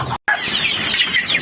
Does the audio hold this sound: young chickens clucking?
yes